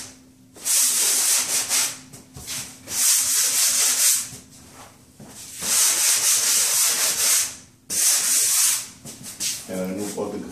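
Light hand sanding of drywall compound over a torn drywall patch, with long, steady broadband rubbing strokes in repeated bursts separated by short pauses, close and fairly loud.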